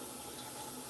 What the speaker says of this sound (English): I've got my hands in soapy water right now